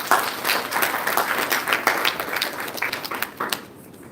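Audience applause fills a conference hall, a dense, steady patter of many hands clapping at moderate loudness, tapering off near the end.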